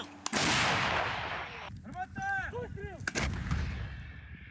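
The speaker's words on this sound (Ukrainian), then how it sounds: "Постріл!" A single heavy artillery shot booms close by, followed by a long rumbling echo and some whistling, crackling debris.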